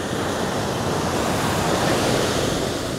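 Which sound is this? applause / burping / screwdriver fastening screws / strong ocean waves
strong ocean waves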